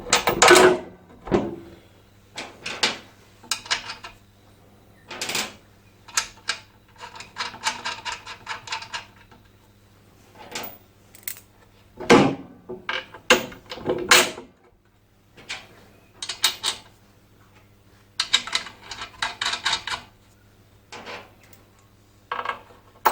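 Bolts are fitted to a tyre machine frame with repeated close metallic clicks, ratcheting and clanks in irregular bursts, separated by short pauses.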